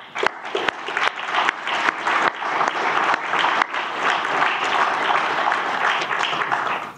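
A conference audience at a Defence of Europe closing session bursts into applause, starting with scattered claps that swell into sustained, dense clapping from a sizable room.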